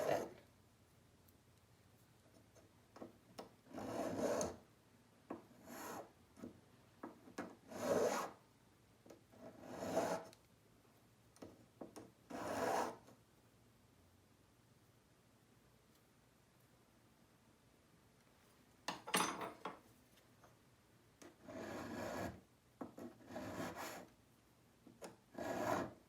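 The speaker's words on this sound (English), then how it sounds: "I'm going to take my files and just refine that curve a little bit" Metal files refining a curve on a piece of jewelry: close, rasping strokes come in short clustered bursts, separated by quiet pauses, with no talk.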